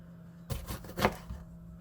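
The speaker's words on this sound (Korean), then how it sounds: "그러면 이제 파프리카를 또 썰어볼 건데," A knife slices through a bell pepper on a cutting board, giving a short cluster of close, crisp cuts with a couple of firm knocks against the board, then quiet.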